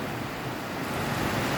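Strong sea waves break on a beach, a steady broad roar of surf close by with wind buffeting, continuous for the whole stretch and no voices.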